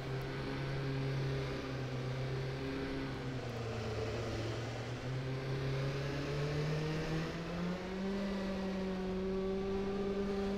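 Interior engine sound of a McLaren F1 race car in the rFactor 2 racing game, a steady tonal drone whose pitch dips and then climbs with the revs, sustained throughout at moderate level with no voices.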